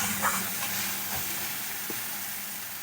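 Green chillies and mustard paste sizzle in a pan for a Bengali-style bhola fish curry, a continuous hissing fry heard up close with a few faint knocks and no speech.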